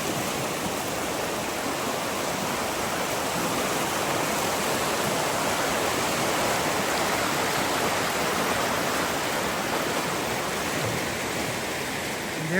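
Hoh River in Olympic National Park's Hoh Rain Forest, a steady broadband rush of flowing water, loud and unbroken throughout with no voices.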